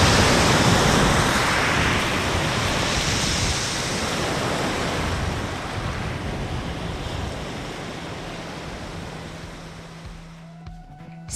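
Adriatic Sea waves after a storm at Petricane near Zadar: a steady, loud wash of surf with gusting wind over the microphone, easing slightly toward the end, no voices.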